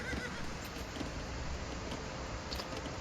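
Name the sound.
horses in the video game Age of Empires 2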